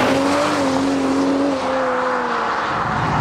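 A 2020 Toyota GR Supra with 340 PS in its automatic sport mode after a kickdown, engine droning steadily and loudly from inside the car, its tone holding with only slight pitch shifts and no speech.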